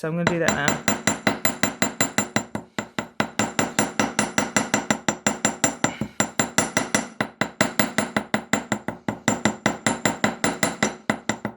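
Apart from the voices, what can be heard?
hammering wire for Celtic wirework jewellery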